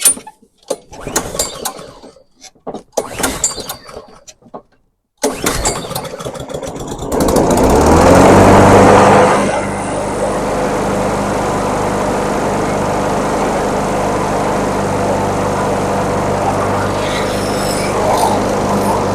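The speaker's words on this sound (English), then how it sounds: "Bring her up. And let's" A lawn mower engine sputters with mechanical clatter, catches and roars up loudly, then settles into a steady, close running drone for the rest of the time.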